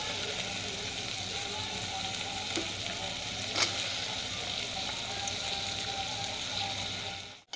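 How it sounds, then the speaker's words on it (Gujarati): Potatoes and onions frying in a pan, giving a steady, dense hiss of sizzling oil that runs almost unbroken, with a faint clink or two of stirring and no talk over it. "હવે ડુંગળી એડ કર્યા પછી આપણે આની અંદર એડ કરીશું બટેટા."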